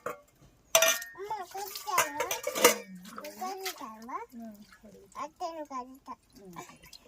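Dishes clink and clatter in a burst early on as a child scrubs them at home, then voices of a child and an adult talk almost continuously over faint handling sounds.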